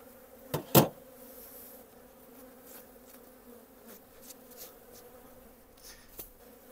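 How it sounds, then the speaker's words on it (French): Honeybees hum and buzz steadily at a low level as they are shaken into a hive, with a couple of sharp knocks early on and occasional louder buzzes passing close. "Je secoue bien mes abeilles dans la ruche. Ça va voler un peu."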